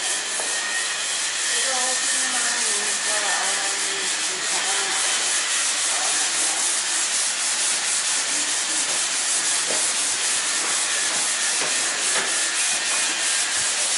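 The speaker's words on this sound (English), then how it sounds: "Which involves sanding and sanding and sanding to the smoothest and cleanest possible surface." Steady abrasive sanding of a boat locker lid being smoothed under a boat during a refit, a continuous rough hiss and rub that runs throughout, close and loud.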